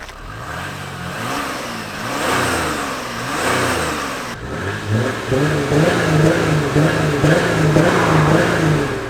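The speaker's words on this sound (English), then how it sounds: "I don't think that sounds too bad" A car with its back box deleted revs loudly nearby, its raw exhaust note climbing and falling in repeated pulls before settling into a rumbling, burbling idle with further blips.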